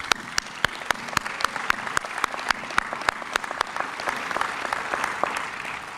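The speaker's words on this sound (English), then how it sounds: "I would like to ask you to offer another round of applause for them" Audience applause at an International Overdose Awareness Day event: a steady wash of many hands clapping, with a few sharp, close claps standing out in a loose rhythm throughout, moderately loud and without talk.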